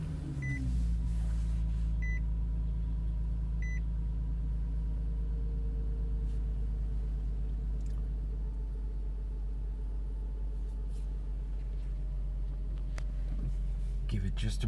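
A 2009 Nissan 370Z Touring engine runs at a steady, low, even rumble that holds for the whole stretch, with a few faint beeps near the start.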